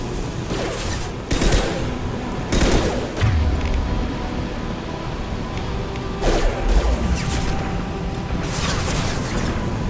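Repeated concussive blasts from the Concussive Shot ability in Mass Effect 2, set on Omega, come as several loud, sharp bursts over a constant battle din, with heavy low thumps spaced through the fight.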